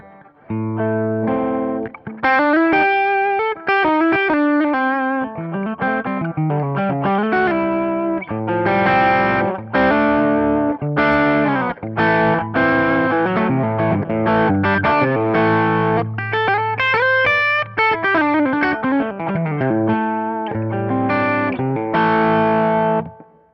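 Electric guitar through a warm vintage overdrive pedal, controls set around noon, plays a string of riffs and ringing chords, distorted and loud, with no talking.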